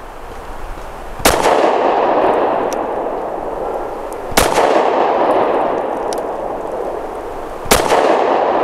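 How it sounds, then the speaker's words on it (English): Three loud, sharp pistol shots from a ported Taurus GX4 firing Federal HST 124 grain hollow points, spaced about three seconds apart, each followed by a long reverberant decay with no talking. "Make sure that I'm keeping the gun still in frame while I'm shooting here."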